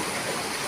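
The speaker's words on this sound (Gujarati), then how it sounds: "આ વિડીયો કોલ કરવામાં વરસાદ ચાલુ એટલે બતાવ્યો." Heavy monsoon rain falls in a village in Gujarat, where water has overflowed into the streets. It makes a dense, steady, broadband hiss that lasts the whole brief moment and is not broken by any voices.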